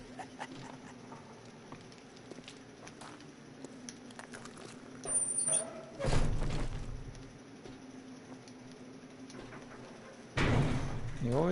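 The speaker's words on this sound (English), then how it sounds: "You always want to remember to shut them doors when you leave" In the game 7 Days to Die on PS4, a door shuts with two loud thudding bursts a few seconds apart over quiet game ambience.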